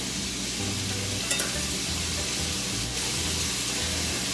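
Walking tacos casserole filling browns in a pan on the stove, a steady close sizzle with faint stirring scrapes throughout, plus a low hum underneath.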